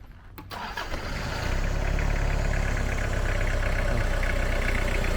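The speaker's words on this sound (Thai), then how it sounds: "ใครฟังเสียงเครื่องไมตี้ออกเสียงต้องประมาณนี้เลยนะฮะ" A Toyota Mighty pickup truck engine cranks briefly, catches and settles into a steady, loud, close idle that runs uninterrupted with no voices.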